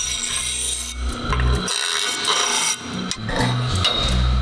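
A scrap metal tube is cut by hand with a saw in a car workshop, several rhythmic back-and-forth rasping strokes with brief pauses between, close and loud.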